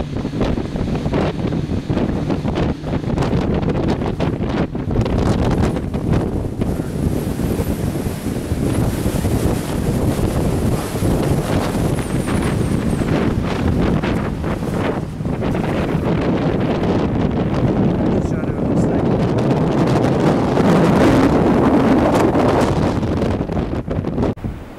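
Strong gusts buffet the microphone at a wind farm, a loud, continuous rumbling roar that fills the whole stretch with no clear pauses.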